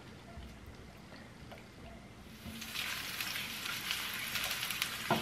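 Ginger hits a pan that isn't fully hot yet while smelt adobo is being cooked, starting as a faint crackle and swelling into a steady, bright sizzle and spatter that grows louder partway through, with no voices.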